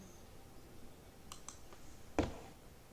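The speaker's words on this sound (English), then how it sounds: "So I'll type it in there." A handful of faint, quiet keystrokes on a computer keyboard as a program name is typed into an Ubuntu search box, ending with one louder key press.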